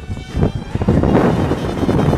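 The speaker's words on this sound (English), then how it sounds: "Very windy though." Strong wind in the Black Mountains buffets the microphone in loud, rumbling gusts that build and stay steady, with no voices heard.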